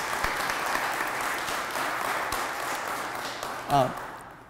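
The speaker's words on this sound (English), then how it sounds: "I'd like for all of us to just give them a round of applause." Audience applause at an American Indian Heritage Month gathering in Columbia, a sustained round of clapping that slowly fades, with a brief voice near the end.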